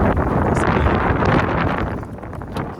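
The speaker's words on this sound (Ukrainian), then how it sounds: "вітер нас зривається" Heavy wind buffets the microphone, a loud continuous roar that fills the whole short stretch.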